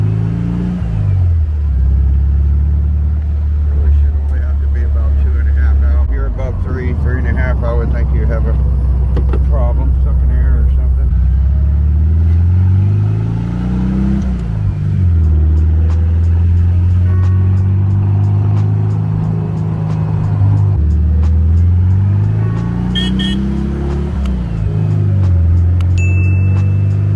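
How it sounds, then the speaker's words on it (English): A VW dune buggy engine runs steadily up close with a low, loud rumble, revving up and settling back in several rising-and-falling swells. "Just bugging in the Dune Buggy, bro."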